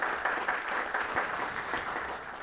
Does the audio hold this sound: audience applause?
yes